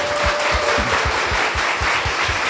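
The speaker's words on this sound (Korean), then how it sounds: "힘내시라고 박수 한번 쳐드릴까요?" An audience at a talk show breaks into steady applause, rhythmic close clapping filling the short stretch with no voices over it.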